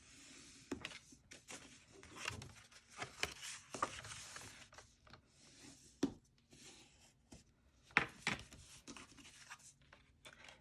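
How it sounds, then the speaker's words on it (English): A bone folder is pressed and drawn along folded card stock, giving faint, close scraping and rubbing strokes in uneven bursts, with a few sharper ticks in a quiet room. "I'm going to give it a crease with my bone folder."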